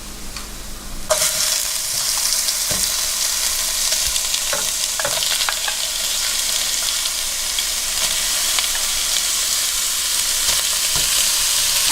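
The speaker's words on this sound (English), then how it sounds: "I'm going to add in our seafood. I'm cooking the seafood up first" Seafood stir-frying in a hot pan for pan-fried noodles, a loud sizzle bursting up after a brief quieter start, then holding steady with scattered utensil clicks and scrapes, no speech.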